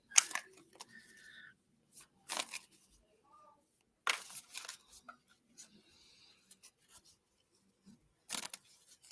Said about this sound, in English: let's keep shuffling the card.